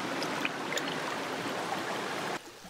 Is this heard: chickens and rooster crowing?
no